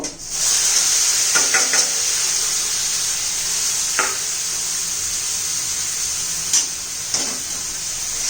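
Cluster beans (gavar) tossed into masala frying in a pan give a loud, steady sizzling hiss throughout, broken by a few brief stirring clicks and scrapes.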